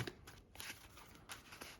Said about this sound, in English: Just shuffling up the deck,